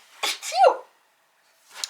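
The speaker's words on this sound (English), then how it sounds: "ooh, I'm gonna sneeze" A single sharp sneeze with a quick inhaled buildup, close and loud, followed by a pause and a faint breathy sound.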